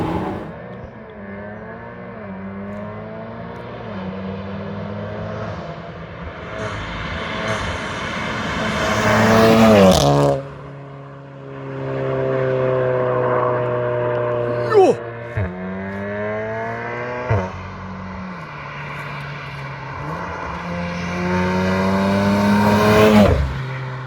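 A tuned APR stage 2 VW Golf R Mk7 revs hard through several gears. The loud engine note climbs in pitch, drops sharply at each shift and climbs again, with a voice talking over it inside the car.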